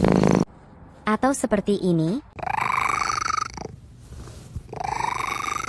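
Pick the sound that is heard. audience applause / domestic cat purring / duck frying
domestic cat purring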